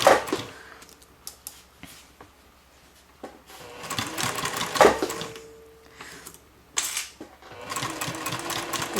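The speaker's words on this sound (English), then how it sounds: "I prefer to sew this way with my side gusset piece facing up" Sewing machine stitching the exterior of a bag with a side gusset piece, running in several close, loud bursts of rapid needle chatter separated by pauses as the fabric is adjusted.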